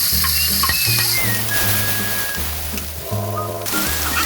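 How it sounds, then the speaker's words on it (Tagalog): Garlic and onion sautéing in a hot pan for pancit canton, a loud steady sizzle up close with utensil stirring, over faint background music. "Painitin ang kawali, pakagisahin ang bawang at sibuyas."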